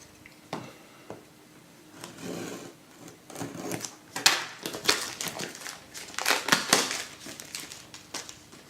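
Packaging of a Wiko Tommy 3 smartphone box crinkles and crunches as it is opened, with irregular rustling bursts that grow busier toward the end, close and fairly quiet.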